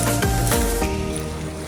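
A hired outboard boat motor runs steadily out on the sea, a loud continuous drone close by with water wash and a few brief bumps in the first second.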